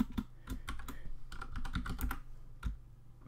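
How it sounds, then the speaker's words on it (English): Close, quick typing on a computer keyboard with a mic cable lying across it, giving irregular bursts of clicking keystrokes with short pauses between them. "It's really hard to type on my keyboard because I have a cable going across it from my mic."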